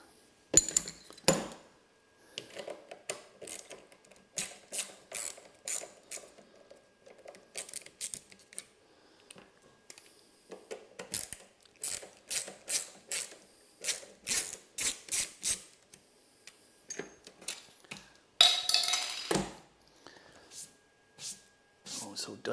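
Metal clinks, scrapes and short ratcheting clicks as an oily bolt is worked loose while a Stern Venom LE pinball machine is unboxed, coming in irregular bursts with pauses between them.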